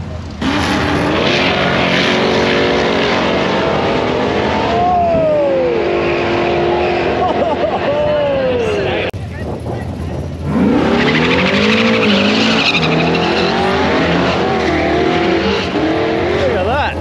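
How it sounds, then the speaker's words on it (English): No-prep drag racing cars at Perth Motorplex launch sideways, engines howling and rising in pitch through loud, continuous runs, with tyres squealing and commentary heard over the noise. "So the first cars are coming out, they're absolutely sideways."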